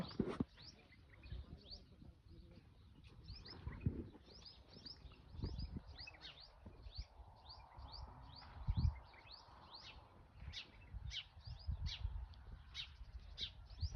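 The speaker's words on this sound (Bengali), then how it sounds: "না সুন্দর লাগতেছে পাখির আওয়াজটা" Many small birds chirp and tweet in quick repeated calls in a mango orchard in Oman, fairly faint, with soft rustles and thumps nearby.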